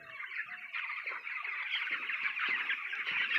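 Thirteen-day-old chickens on a poultry farm keep up a dense, continuous chorus of overlapping peeps and clucks, close and fairly loud throughout.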